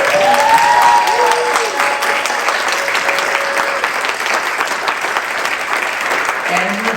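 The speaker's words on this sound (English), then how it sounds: "please give her a applause" An audience at an annual policy and budget conference claps steadily for several seconds in a fairly loud, dense wash, while an amplified voice speaks faintly over the applause.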